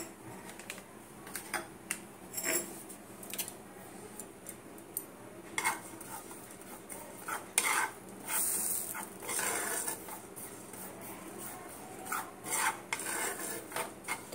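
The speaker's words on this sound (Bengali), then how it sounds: "দেখো প্যানটাকে গ্যাসের উপরে চাপিয়েছি। এবারে তিলটাকে একটু সামান্য নাড়িয়ে নেব।" White sesame seeds are stirred in a pan on a gas stove, with a spoon scraping and ticking against the metal in irregular light clicks that come close and quiet.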